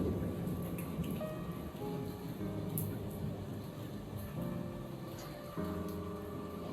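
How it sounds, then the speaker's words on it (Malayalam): Heavy rain pours down during a thunderstorm in a dense, continuous wash of noise, with scattered drips and splashes standing out nearby. "മഴ, ഒടുക്കത്തെ മഴ"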